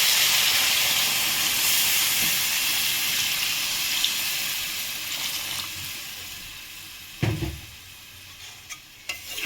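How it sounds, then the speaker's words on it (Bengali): Hot water poured onto chicken frying in a pan, a loud rushing hiss of steam and sizzle that slowly fades, followed by a few clanks of utensils, close and without voices. "এখন আমি কষে নেব, আমি গরম পানি দেবো।"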